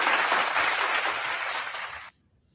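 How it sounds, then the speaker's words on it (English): A burst of applause from a crowd, steady and fairly loud, then cutting off abruptly into near silence. "Round of applause."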